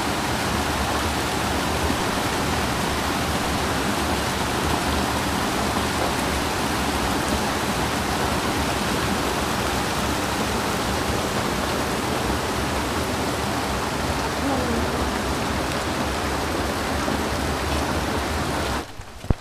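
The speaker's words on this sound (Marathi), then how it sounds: "पाऊस आहे ना थांबतो पडतोय" Steady heavy rain falling near a full village dam in Rajapur, Konkan, a dense continuous hiss with rushing water, loud and unbroken for the whole stretch, no voices.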